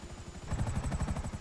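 A helicopter in GTA 5 Online whirs with a steady, rapid rotor chop that grows louder partway through, heard alone in a short burst.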